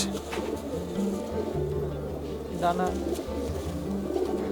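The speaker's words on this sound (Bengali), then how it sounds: "এই হচ্ছে মেল পায়রা" A male pigeon, kept with golden kamagar breed birds in Kolkata, coos in low repeated rolling notes throughout, with someone talking nearby.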